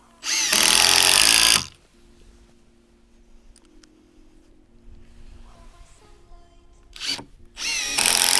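A power drill drives screws into a two-level wooden garden bed base, with two loud, steady whirring bursts: one near the start lasting about a second and another at the end, separated by a quiet stretch of faint handling noise.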